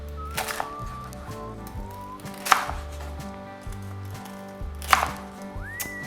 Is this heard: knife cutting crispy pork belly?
yes